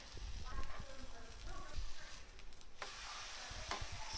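Faint, steady sizzling of thick dosa batter on a hot pan, with light scraping and stirring clicks scattered over the hiss.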